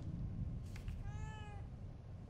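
A cat meows once, drawn out and wavering, inside the horror video game The Evil Within 2, faint and alone over a low ambient game rumble.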